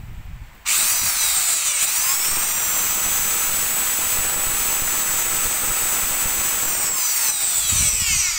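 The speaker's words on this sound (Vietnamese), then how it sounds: "Khoan Hitachi. Đó. Điện 100V, 335W, 1600 vòng trên phút ha." A Hitachi hammer drill rated 335 W, 100 V and 1600 rpm with a 10 mm chuck switches on and runs at a loud, steady high whine for several seconds before spinning down near the end.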